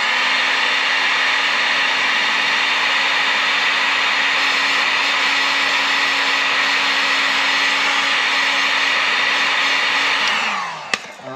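Heat gun blowing on heat shrink tubing over a wire connection, a loud steady whooshing hum held for about ten seconds before winding down with a faint click at the end.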